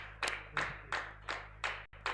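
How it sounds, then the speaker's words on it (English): Rhythmic clapping at a university AI-for-health symposium as a team walks to the stage, six evenly spaced, fairly faint claps over about two seconds against a low hum. "let's clap for them as they come to the stage"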